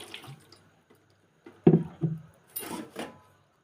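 Vegetables such as carrots and potatoes being rinsed by hand in a bowl of water, with irregular splashes and sloshing bursts close by, separated by short quiet pauses.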